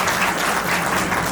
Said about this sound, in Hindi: एक बार जोरदार ताली हो जाए मेरी मम्मी के लिए